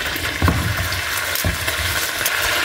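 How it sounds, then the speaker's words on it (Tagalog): Marinated pork bistek frying in a hot pan, a steady crackling sizzle filling the whole stretch with a few louder pops and stirring bumps, close and continuous with no talk. "Prito tayo."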